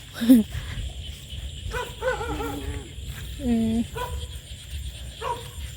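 A voice imitates a dog, letting out several short barking yelps and whiny howls in a loose sequence, fairly close.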